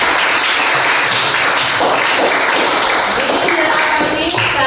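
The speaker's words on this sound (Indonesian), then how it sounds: "tepuk tangan untuk Intan" Classroom applause for a student named Intan, a steady dense patter of hands filling the room with voices mixed in.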